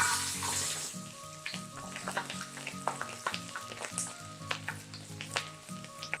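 Garlic frying in melted butter with a splash of coconut oil for a vegetable dish, steady close sizzle broken by frequent crackling pops and light stirring, with no voices.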